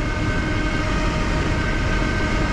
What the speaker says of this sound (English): Hopefully you guys can still hear me because it is super windy.